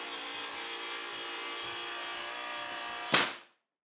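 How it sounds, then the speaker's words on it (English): A Makita rail saw cuts a saveBOARD lining sheet with a steady, loud, buzzing whine for about three seconds. It ends in a brief louder burst and then stops abruptly. "We like to use our Makita rail saw."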